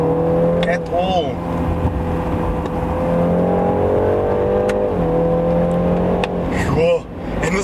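BMW 3 Series, a new 320d or 330i with an 8-speed ZF gearbox, accelerating hard with a steady engine drone rising in pitch, loud and close from inside the cabin.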